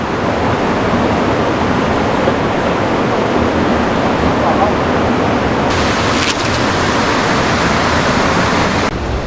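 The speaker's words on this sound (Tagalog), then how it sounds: "Lakas ng agos." Strong current of a forest river rushing past, a loud, dense, continuous roar of churning water heard up close, unbroken throughout.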